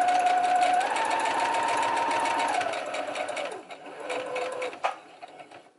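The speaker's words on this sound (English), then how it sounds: "Straight stitch on the edge on the outside and straight stitch on the edge on the inside." A sewing machine runs a steady straight stitch along the edge of a lace closure, humming loudly at an even pace before slowing, pausing and starting briefly again with a final clunk.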